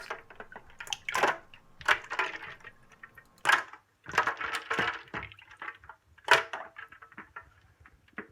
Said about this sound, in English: just add this extra wort in with the yeast